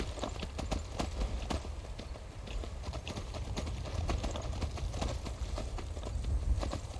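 Horse hooves clip-clop steadily in Skyrim, a continuous trotting rhythm over a low rumbling game soundscape, fairly close and steady throughout.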